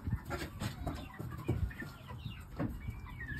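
Shamo chickens, a cock and hen, cluck in short, soft bursts, a few birds murmuring close by over a steady background hum.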